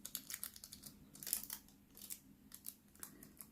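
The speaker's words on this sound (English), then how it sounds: "I'm just peeling it off slowly, and before I rip it all off all at once, just making sure everything's stuck down" Thin nail art foil peels slowly off a fingernail in a series of quiet, close crinkling ticks and crackles, irregular and soft, with no talking.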